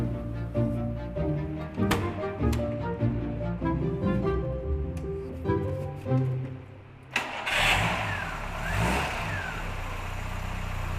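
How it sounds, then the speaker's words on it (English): A 1987 Ford Capri engine cranks with a rhythmic churning starter, then catches and fires up, settling into a steady run with a brief rev, close by. "it's the moment of truth, as we go for an engine start"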